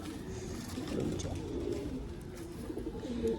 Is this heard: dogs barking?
no